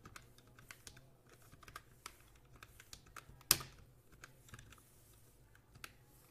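Soft, steady computer keyboard typing while writing HTML, a faint run of rapid key clicks with one sharper, louder keystroke midway.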